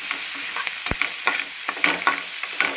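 Ginger garlic paste sautéing in a pan as the base for a cauliflower chicken gravy, crackling sizzle with repeated close spatula scrapes and knocks, one sharp clack near the start, no voices.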